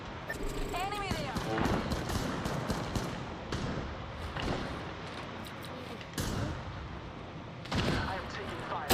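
Video game gunfire, bursts of rapid shots coming in several clusters, loud and close, with stretches of quieter game noise in between and a voice talking over parts of it.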